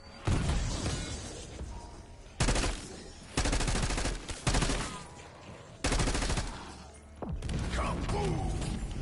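Bursts of automatic gunfire and blasts in a video game, including a thrown Semtex grenade, coming in several loud, abrupt volleys separated by short pauses.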